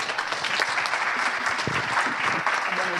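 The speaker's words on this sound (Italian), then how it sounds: "un saluto e un applauso ai nostri ospiti" An audience at a cultural festival in Soveria Mannelli applauds the guests, with dense, sustained clapping from a sizable crowd and a few faint voices mixed in.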